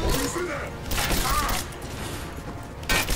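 Gunfire in the video game Rise of the Tomb Raider comes in rough bursts and thuds, mixed with game noise. A player's voice talks over it.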